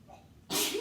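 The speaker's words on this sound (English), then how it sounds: "I feel a sneeze coming on." A single loud, close sneeze bursts out halfway through, preceded by a quiet moment of breathing.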